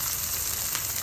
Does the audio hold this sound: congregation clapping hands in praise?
no